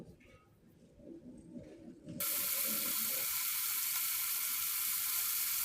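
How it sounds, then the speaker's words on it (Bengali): Marinated chicken pieces drop into a hot pot on the stove and a loud, steady hiss of frying starts abruptly, continuing evenly after a quieter opening of faint clattering and rustling. "বিশ মিনিট পর আমি চুলায় একটি হাঁড়ি বসিয়ে মাংসগুলো কষানো শুরু করে দিয়েছি"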